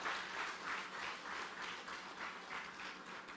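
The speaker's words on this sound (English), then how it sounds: "please join in giving them a round of applause for the hard work they are doing" Audience at a government housing ceremony giving a round of applause, a faint, distant, even wash of many hands clapping that carries on steadily.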